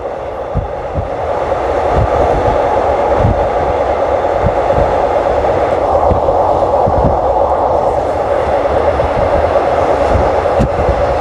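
Inside a carriage of rapid train 135 from Krung Thep Aphiwat toward Ubon Ratchathani, descending near Don Mueang: a constant heavy rolling roar with evenly spaced wheel clacks over rail joints.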